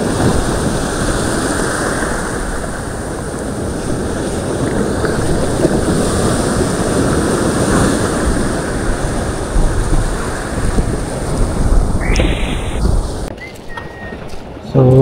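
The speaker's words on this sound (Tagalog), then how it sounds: "Grabe yung alon, no?" Steady roar of wind and rolling surf on open water while fishing, loud and constant throughout, with a brief higher whine near the end.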